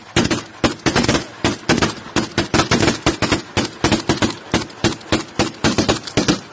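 Rapid gunfire in a military firefight in Lachin District, Azerbaijan, with loud, close bursts of shots repeating steadily and almost continuously for over six seconds, no voices heard.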